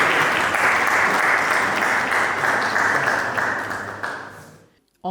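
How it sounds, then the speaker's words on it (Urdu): A seminar audience claps for a speaker taking the stage, a loud, sustained round of applause that tapers off and ends abruptly near the close. "تالیاں ڈاکٹر صاحب کے لیے۔"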